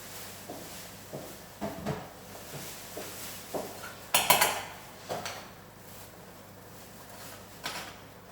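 Ingredients from canned food being mixed together in a dish, giving soft scrapes and scattered utensil clinks, with one sharper clatter midway and light taps spread through the rest.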